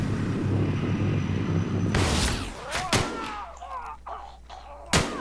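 Gunshots in The Outer Worlds during a survival-mode fight, a few loud sharp shots over a dense rumbling battle din, with voices briefly audible.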